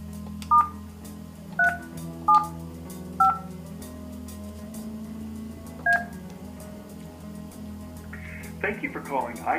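A telephone keypad plays a series of short DTMF dialing beeps, evenly spaced and clear, for an italk T29 desk phone, with a brief burst of other sound at the very end.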